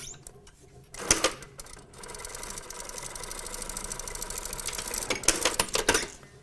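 A sewing machine runs a stay stitch attaching a slanted side pocket to the waist and side seam, with short fast bursts of stitching separated by a longer, steadier run of motor whirr and needle chatter.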